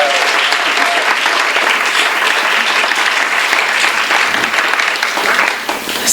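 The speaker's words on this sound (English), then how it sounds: "Let's have another round of applause for Coyote Doggirl" Loud, sustained audience applause from a crowd at an evening book event, a dense wash of clapping holding steady for several seconds with no voices over it.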